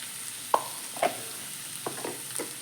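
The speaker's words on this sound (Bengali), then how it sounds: "খুলে একসঙ্গে নেড়ে দেব ভালো করে আর এর মধ্যে কিছু শুকনো মশলা দিয়ে দেব" Pumpkin and prawn fry with dry spices being stirred in a pan, a faint sizzle under a few quick spoon scrapes and knocks spaced about half a second apart, close and quiet, with nobody talking.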